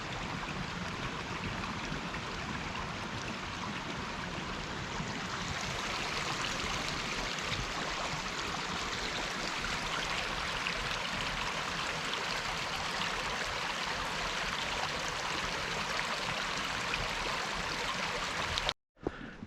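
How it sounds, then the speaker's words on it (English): Forest stream flowing steadily near Coal Creek Falls on Cougar Mountain, a continuous broadband rush of water heard close and alone, cutting off abruptly at the very end. "I love all the streams."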